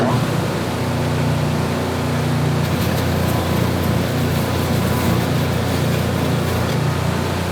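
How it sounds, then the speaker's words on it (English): A loud, continuous broadband rushing hum of a flat sander with 120-grit paper working wood, with a lower motor drone that shifts slightly after a few seconds. "this is a flat sander with, I believe, 120 grit on it"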